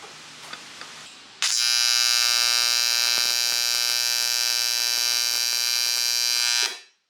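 An ESAB 205ic welder works on intercooler piping for a V8 twin-turbo FRS. A few faint clicks come first, then a loud, steady, harmonic electric buzz lasts about five seconds before stopping abruptly.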